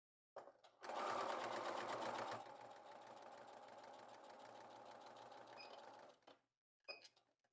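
A domestic sewing machine stitches a curved edge at a steady, fast, whirring rattle for about five seconds, stops, then gives a brief final burst, close and clear.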